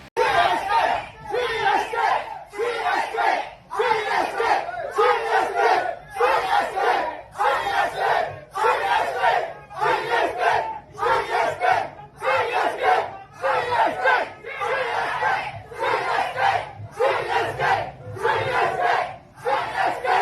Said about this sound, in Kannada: ಸಿ ಎಸ್ ಕೆ ಫ್ಯಾನ್ಸ್ ನಾವೇನು ಕಮ್ಮಿ ಇಲ್ಲ ಅಂತ ಅವರು ಕೂಡ C S K C S K ಅಂತ ಜೈಕಾರ ಹಾಕ್ತಾ ಇದ್ದಾರೆ